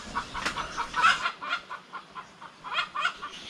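A flock of hens clucks in repeated short bursts at a backyard farm, with a newly arrived rooster among them. The calls come from close by at moderate volume, with no voices.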